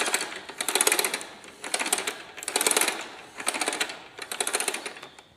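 A hand-cranked Aero seed fiddle for sowing grass seed, whirled in about five bursts, each a rapid rattling, clicking whirr lasting roughly a second, with short pauses between, close by and moderately loud.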